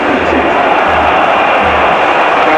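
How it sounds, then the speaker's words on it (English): Football stadium crowd at a Bosnia and Herzegovina versus Italy European qualifier roaring and cheering loudly, a steady dense wash of voices filling the whole moment. "Crowd enjoyed that."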